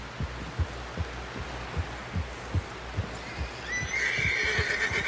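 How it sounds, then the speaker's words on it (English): A horse in the video game Red Dead Redemption 2 walks with a run of soft, regular hoof thuds, then lets out a loud, drawn-out whinny near the end, close and clear. "Someone help John down off this horse."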